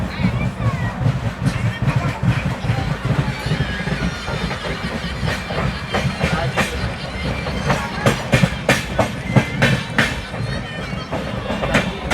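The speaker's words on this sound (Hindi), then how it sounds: "WAP7 का एक्सेलरेशन देख सकते हो, स्पीड अप कितना जल्दी पकड़ लिया।" An Indian express train hauled by a WAP7 electric locomotive picks up speed, with a continuous rumbling roar and rapid clickety-clack of wheels over rail joints, loud and close, with a voice talking over it.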